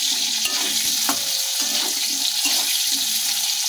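Mango pieces fry in a pan, giving a steady, close hiss of hot oil with soft intermittent scrapes and taps from stirring throughout; no one speaks.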